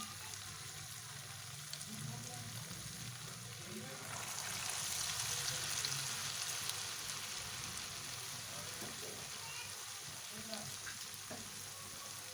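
Raw potato kebabs frying in oil in a pan on a low flame, giving a steady, fairly quiet sizzle throughout with no talking.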